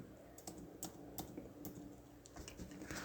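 A computer keyboard is typed on close by, with irregular soft clicks and taps for about three seconds, quiet and with no voices.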